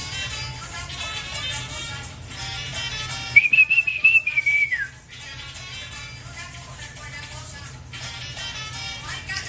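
A person whistles a short rising and falling tune for about a second and a half, loud and close, over Dominican perico ripiao music playing steadily in the background.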